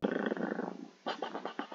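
A dog card summoned in the video game Hearthstone lets out a short growling bark, then a second gruff burst, close and clear with no talk over it.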